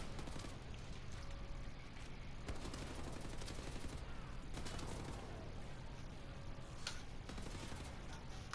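Gunfire in the video game Wolfenstein: The New Order, a dense, continuous stream of rapid shots and bursts, fairly faint and steady throughout.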